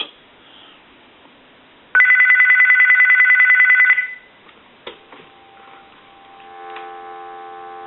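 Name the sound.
GE 25881EC telephone bell ringing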